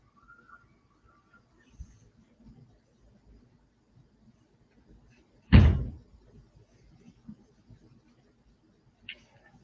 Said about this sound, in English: in my opinion, it's a car door or a trunk. Something is closing.